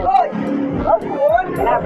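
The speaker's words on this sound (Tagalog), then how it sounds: "Papakain kami aso." A dog barks and yips several times in quick succession, close by, amid lively chatter and background voices.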